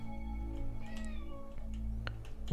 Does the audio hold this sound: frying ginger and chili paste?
no